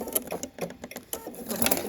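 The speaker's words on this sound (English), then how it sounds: "I'm letting the machine feed the fabric." A sewing machine feeds fabric while stitching a cloth mask, giving a close, brisk mechanical chatter of needle strokes with small uneven bursts.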